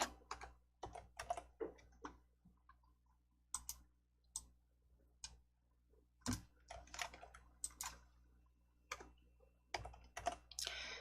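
Computer keyboard keys tapped at a desk while adding slides in a presentation program, with sparse, irregular clicks and short bursts of typing alone in a quiet room.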